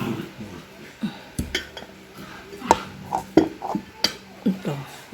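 Garlic being added to a pan while cooking Filipino pakbet, with clattering utensil knocks, scraping and light pan clinks in an irregular rhythm, close by under faint room noise.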